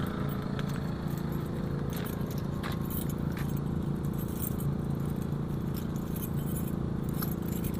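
Keys jangling in a hand, with light intermittent metallic clinks close by over a loud, steady mechanical drone from a running generator nearby. No speech.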